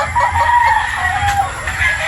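A rooster crows loudly and close by among clucking birds in a flock of 3/4 Sweater, 1/4 Boston broodstag chickens, with a steady, even call.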